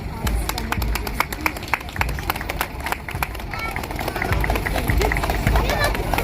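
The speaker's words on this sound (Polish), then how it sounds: "Brawa dla nich." Crowd clapping for the harvest festival hosts riding in on the first horse-drawn carriage, steady applause running throughout with busy crowd noise and hoof-like taps, loud and close, growing slightly toward the end.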